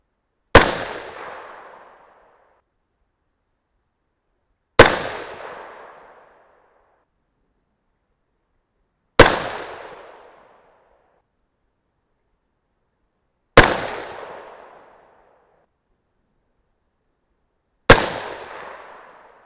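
Five sharp 6.5 Grendel rifle shots firing 107-grain Sierra Match King loads, evenly spaced about four and a half seconds apart, each a loud crack with a short decaying tail, with silence between and no talking.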